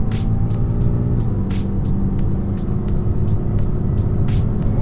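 A Lexus GS300 engine that is misfiring while being driven gives a loud, steady interior drone and hum. A regular run of short ticking pulses repeats on top of it throughout, and nobody talks.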